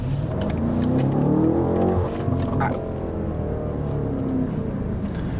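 BMW M8 Competition V8 engine revving, a loud continuous growl rising and falling in pitch as it sweeps up through the revs, heard close and alone without talk.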